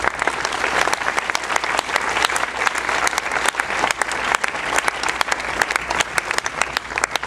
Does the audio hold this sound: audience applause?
yes